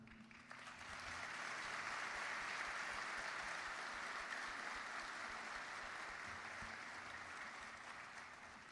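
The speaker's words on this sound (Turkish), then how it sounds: "Alkışlarınızı ustaya, Veysel Baba'ya." A concert audience at a memorial concert for Aşık Veysel breaks into long, full applause that swells quickly and holds steady for several seconds before easing slightly, with a voice briefly audible at the start.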